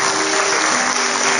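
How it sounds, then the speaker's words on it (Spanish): Audience applause for a dance group at the official closing of the 44th Abril Cultural Salteño festival in 2021, a dense, loud, steady wash of clapping that fills the whole moment without pause. "les pido un aplauso para el grupo danzante que estuvieron antes"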